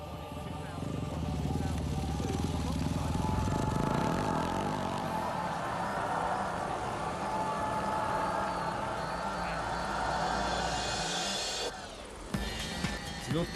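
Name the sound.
KTM 700cc rally motorcycle riding in the desert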